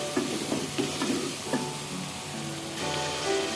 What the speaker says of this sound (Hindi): ये देखें मसाला हमारा अच्छे से भुन रहा है